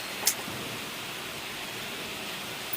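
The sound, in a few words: rain falling, school ground flooded with water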